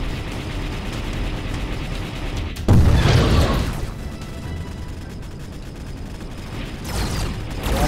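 Rockets firing and exploding in the space game Outer Rim, a sudden loud blast with a rumbling tail followed by a steady mechanical hum and another swell at the end.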